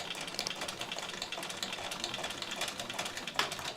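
A sewing machine stitches a fabric strap in a rapid, even, close-up patter that runs continuously and fairly quietly from start to finish.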